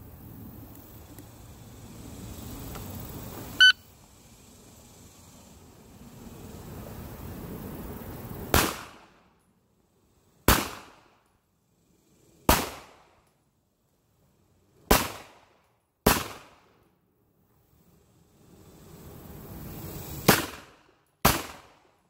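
Pistol gunshots fired at a shooting range during a shot timer sensitivity test: a sharp click, then six loud, separate cracks spaced a second or two apart, with quiet gaps between.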